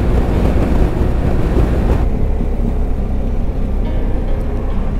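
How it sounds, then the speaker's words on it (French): Headwind buffeting the microphone while riding along a country road, a loud, steady rushing roar that eases somewhat after the first two seconds and continues without speech. "Là j'ai un joli vent de face"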